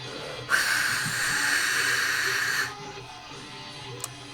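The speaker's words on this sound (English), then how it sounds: "East Coast Pete knows what white noise sounds like." A steady burst of white noise hiss starts abruptly, holds for about two seconds, then cuts off, leaving a faint background with a small click.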